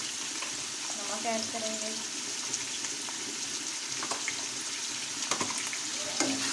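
Chicken keema frying in a pan, with a steady hissing sizzle and occasional stirring clinks under a brief spoken remark.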